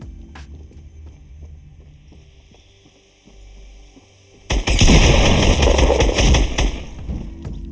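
Pump shotgun fire in the Fortnite video game: after a low humming lull, a loud, close burst of rapid blasts lasts a couple of seconds before dropping back to the background drone.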